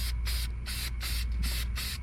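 An aerosol can sprays oil onto an ATV air filter from a 2020 Polaris Sportsman in four or five short, close hissing bursts with brief pauses between them.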